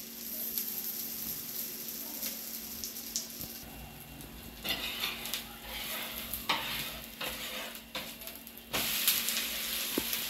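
Pesarattu, a green gram dosa, sizzles steadily in oil spooned over it on a hot pan, a close, continuous crackling hiss with some brighter bursts and no voices.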